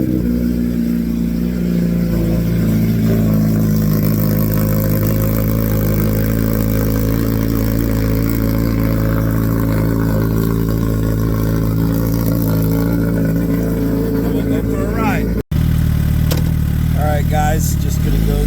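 A Gen 3 Suzuki Hayabusa motorcycle fitted with a Yoshimura AT2 exhaust runs loud and close at a steady, throaty idle, cuts out for a moment, then returns with sharp revving blips.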